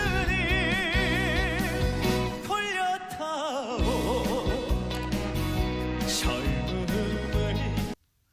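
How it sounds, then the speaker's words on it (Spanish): Korean trot music plays with a heavily vibrato-laden lead voice over a full, steady backing band, loud and continuous until it cuts off suddenly near the end. "un cantante de trot, música tradicional coreana que suena así"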